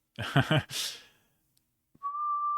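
A single clear whistled note held steadily for about a second, coming right after a burst of speech and a breath.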